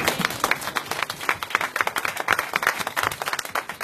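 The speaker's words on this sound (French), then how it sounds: "Applaudissez-vous, notre Seigneur." Applause from a church congregation during a sermon: dense, steady clapping from many hands fills the room close up, with no talk over it.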